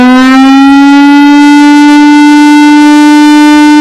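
Lion King siren giving a loud, steady, pure-sounding tone that rises slightly in pitch at the start, then holds constant throughout.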